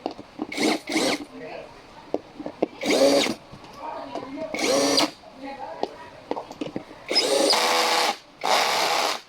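A power drill drives screws and bolts into an office chair during assembly, whirring in short repeated bursts of a second or two, close and loud, separated by quieter handling clicks and rattles.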